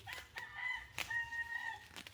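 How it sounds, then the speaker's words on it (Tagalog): A neighbour's rooster crows twice, clear and moderately near, with long wavering calls against a quiet background and no one speaking. "May manok sa kapitbahay."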